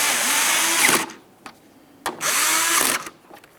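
A power drill drives the taillight mounting screws on a 1998-2002 Lincoln Navigator in two close, loud whirring runs of about a second each, separated by quiet clicks and handling.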